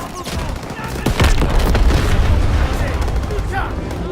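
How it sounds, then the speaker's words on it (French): Rapid gunfire and booming blasts crackle in a dense, loud burst of combat noise from Call of Duty: WWII, with voices faintly under the din. "il fait une belle explosion"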